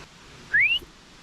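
A single short rising whistle from a person aimed at a possible snake on a jungle hike in Brazil, close and clear against quiet forest background.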